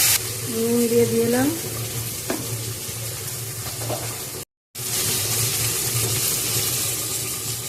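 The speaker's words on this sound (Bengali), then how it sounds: "মশলাটাকে ভালো করে কষিয়ে নেড়ে চেড়ে মশলাটা কষা হয়ে গেছে" Spice paste of cumin and ginger sizzles in a pan while being stirred for a pumpkin-greens dish. There is a steady hiss, scraping stirs and brief clinks, with a short break near the end.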